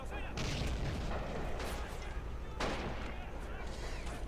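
Artillery shells firing in the World War II strategy game Men of War, repeated heavy booms and bursts of gunfire over a constant loud battle din, with a few sharp blasts standing out.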